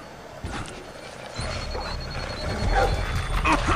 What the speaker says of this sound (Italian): vedete i cani che sono rabbiosi